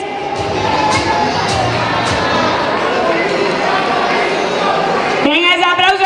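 Outdoor crowd at a Domingo de Piñata prize ceremony on stage, dense applause and cheering with chatter, steady and loud throughout, a voice calling out near the end.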